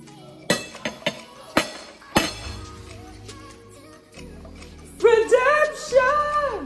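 Cutlery clinks against plates during a shrimp pasta meal, several bright separate taps early on, then a lull, followed by a voice joining in.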